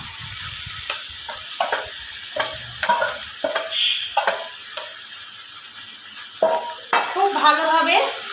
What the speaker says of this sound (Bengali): এবার দিয়ে দেব মশলা মাখানো ম্যারিনেট করা মাংসটা